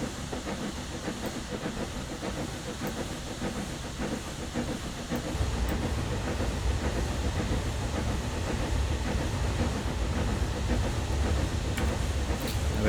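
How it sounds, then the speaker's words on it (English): Steam locomotive SDJR 7F in the Train Sim Classic game blowing off steam, a steady loud broadband hiss that swells at mid-clip and continues over rumbling rail running noise, with no talk. "So whilst we are blowing off, I'll quickly open the injectors"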